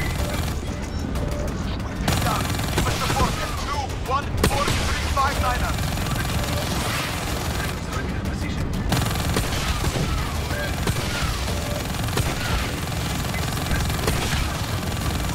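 Gunfire in Call of Duty Black Ops 3 during a campaign mission, heard as dense continuous automatic shooting and game noise under constant talk.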